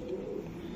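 A racing pigeon coos softly nearby, a brief low murmuring call held for under a second against a quiet background.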